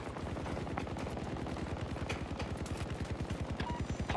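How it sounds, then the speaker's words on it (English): Rapid, evenly spaced gunfire from a Battlefield 2042 match, a continuous automatic burst of sharp reports at steady rhythm, loud and dense throughout with no talking. "I'm hearing sniper fire."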